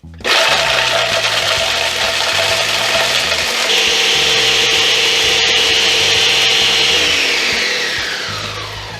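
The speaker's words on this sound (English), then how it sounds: "Here is the Ninja blender. Here are the dehydrated apples." A Ninja blender grinds dehydrated apples in a loud, steady whir that runs almost the full length, its pitch rising slightly partway through before the motor begins to wind down at the very end.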